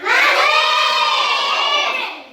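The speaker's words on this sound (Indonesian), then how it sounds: "Kita tepuk semangat." A class of schoolchildren in a lesson shouts a spirited chant together in unison, a loud, sustained group cry that holds steady and then tapers off at the end.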